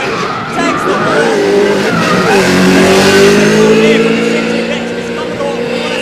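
A Century Batteries VE Commodore drift car revs hard and skids through a corner in a drifting competition at ASB Baypark, Tauranga, with tyres screeching and the engine note rising and falling loudly under a commentator's voice.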